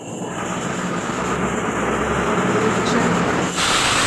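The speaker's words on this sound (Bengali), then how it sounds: "এই একটা মেশিন একটাই প্রবলেম কম কাপড় দিলে বা বেশি ভারী হয়ে গেলে একটু নাড়া চড়া করবো" A washing machine running a load of clothes, a continuous loud churning hiss and rumble with a brief shift near the end.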